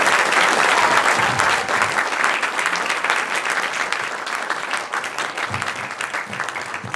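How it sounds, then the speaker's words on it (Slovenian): Audience applause at an anniversary celebration of a karate club in Brežice, a steady, dense crowd clapping that holds loudly throughout, easing slightly toward the end. "zato si predvsem zasluži dober aplavz"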